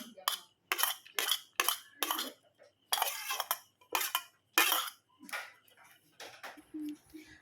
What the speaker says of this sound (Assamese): মই এতিয়া চামুচখনেৰে ধুনীয়াকৈ লাৰি দিলোঁ